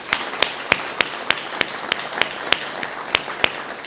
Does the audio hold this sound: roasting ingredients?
no